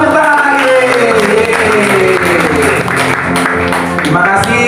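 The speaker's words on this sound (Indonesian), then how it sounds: "Tepuk tangan lagi." Hand clapping from a crowd at a church worship gathering in Jakarta, loud and sustained throughout, mixed with music and voices.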